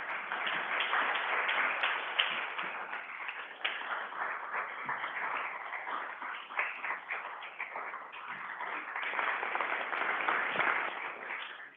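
Audience applause after a presentation on a school and park tree-planting program: steady, dense clapping from a sizable indoor crowd lasting the full stretch, swelling slightly toward the end, with no talk over it.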